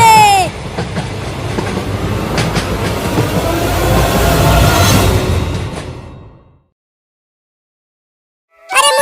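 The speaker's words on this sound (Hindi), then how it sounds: "ट्रेन आ गई, ट्रेन आ गई, ट्रेन आ गई।" A train arrives, loud and close, with a rumbling, rattling roll of wagons and a few squeals. It fades out at about six seconds, leaving silence before a new sound starts near the end.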